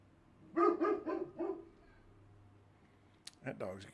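A dog barking in the video game StarRupture, with a quick burst of four close, loud barks, a pause, then another short burst of barks.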